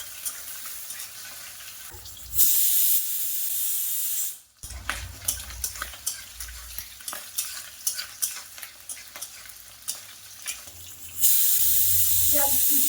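Shrimp and chopped garlic fry in hot cooking oil, giving a steady close sizzle with loud bursts as ingredients hit the pan, plus stirring and scraping, without any talking.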